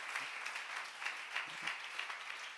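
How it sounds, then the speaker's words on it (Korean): A church congregation applauds one another during a sermon, a faint, distant patter of many hands clapping steadily with no voices over it. "우리 서로를 향해 우리 박수 한번 쳐주길 바랍니다"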